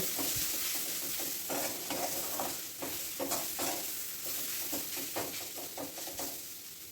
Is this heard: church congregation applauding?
no